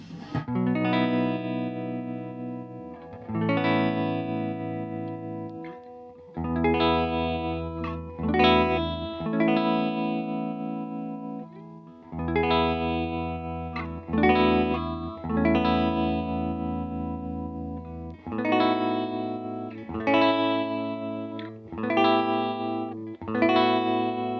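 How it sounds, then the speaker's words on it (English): An electric guitar plays sustained chords through a slow, gentle tremolo pedal on an analog boutique pedalboard, the volume swelling and ebbing softly under a steady, ambient wash. "I've got it set much slower and more gentle. So it's more of a sort of ambient effect than the choppy tremolo effect"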